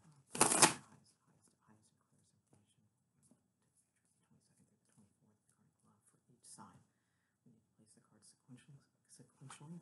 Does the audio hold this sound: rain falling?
no